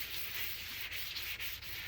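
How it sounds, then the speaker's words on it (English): Wet sanding of BMW car paint during prep work, a continuous close rubbing hiss of abrasive over the panel with brief pauses as the strokes change direction. "wet sanding"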